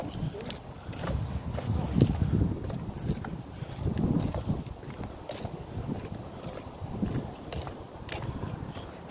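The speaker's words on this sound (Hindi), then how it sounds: "हवा चल रही है।" Wind gusts at a marina at night, low rumbling buffets with soft clicks and knocks, steady and moderate in level throughout.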